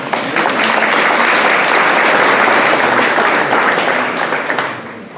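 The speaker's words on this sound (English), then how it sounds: "so if you'll give them a big round of applause" A middle school audience gives the lunchroom staff a loud round of applause, dense steady clapping that holds for several seconds before tapering off at the end.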